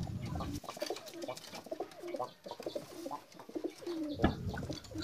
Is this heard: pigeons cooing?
yes